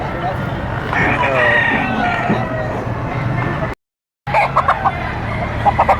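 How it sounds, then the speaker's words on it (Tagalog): A rooster crows loudly nearby, followed by a brief silence and then clucking and chicken calls close by, at a market in Padre Garcia. "Magandang manok nito."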